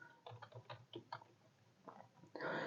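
Someone types quietly on a computer keyboard, pressing enter and the space bar: scattered soft key clicks in short bursts, with a pause in the middle and a louder clatter of keys at the very end.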